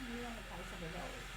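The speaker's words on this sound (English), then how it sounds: "Oh, it's sizzling." Liquid simmering and sizzling in a pot on a stove burner while crispy baked chicken wings are being prepared; a continuous close hiss with a low hum beneath, steady throughout.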